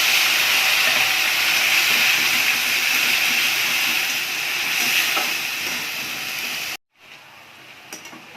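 Spice paste hits reddened fried onions in a pan for a spinach hariyali curry, giving a loud, steady, close sizzle that cuts off abruptly near the end, leaving only faint clicks.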